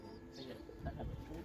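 Racing pigeons in a loft coo softly in a short, low, faint burst, with a few murmured notes.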